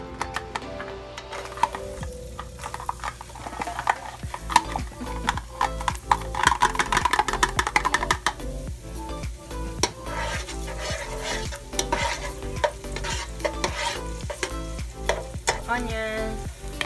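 Garlic sautés in hot cooking oil for Filipino spaghetti, with a bright crackling sizzle under frequent scraping and clattering of a utensil stirring against the pan, close and busy, with no talking.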